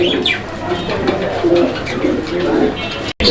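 Fancy pigeons kept for sale at a bird market coo repeatedly in soft throaty phrases, several birds close by in a busy loft with faint chirps and murmuring voices around them.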